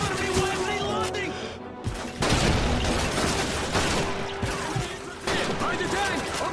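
MG-42 machine gun fire in Call of Duty 2, dense bursts of battlefield gunfire with crashes, loud and continuous, mixed with shouted voices.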